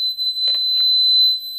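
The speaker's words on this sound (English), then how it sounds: "So if I badge this card against the reader" An HID Prox card badged against an access-control card reader connected to a Gallagher security panel, giving a steady high-pitched electronic beep that holds through the moment with a couple of faint taps, loud and close.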